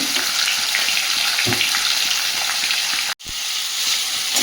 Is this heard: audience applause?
no